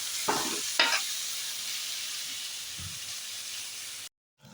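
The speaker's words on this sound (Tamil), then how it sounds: "நல்லா கொஞ்சம் சிம்மில் வதங்க விடுங்க" Tomatoes sautéing slowly in a pan over low heat, a steady soft hiss of frying with two quick stirring scrapes near the start and a faint tap later, ending in a short silence.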